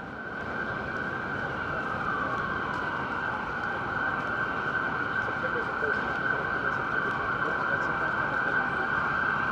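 A wailing ambulance siren rings out on Amsterdam Avenue in New York City's Upper West Side, a steady piercing tone heard at a distance over the dense rumble of street traffic.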